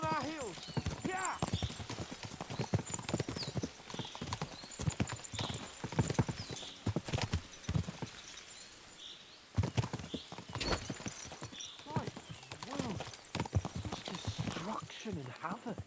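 Horses' hooves clip-clop in a quick, busy rhythm throughout, with a neigh breaking through, as people talk over the galloping.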